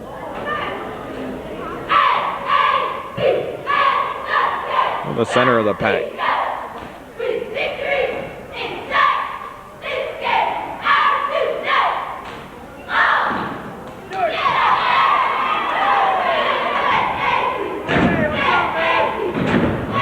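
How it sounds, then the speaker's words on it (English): A varsity cheerleading squad performing on a high school basketball court floor, with rhythmic chanted cheers, sharp thumps and stomps, and crowd noise echoing through the gym, with people talking nearby. "Well, we got the varsity cheering squad going on the floor."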